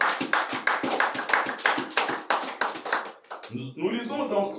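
Church congregation applauding during a special Sunday service in Cherbourg: dense, fast hand claps ring out together for about three seconds, then a voice takes over as the clapping dies away.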